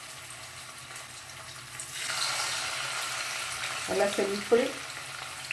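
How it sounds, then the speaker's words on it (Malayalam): Sardines dropped one by one into hot oil set off a rising sizzle that stays steady, with a few brief clatters near the end and a short spoken remark over it. "നമുക്ക് ഈ മത്തി ഓരോന്നോരോന്ന് ഇതിനകത്തിട്ട് വറുത്ത് എടുക്കാം."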